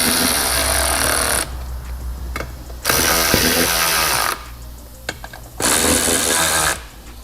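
A hand ratchet snugging beadlock ring bolts on a UTV wheel: three long bursts of rapid clicking separated by short pauses, loud and close, with no talking.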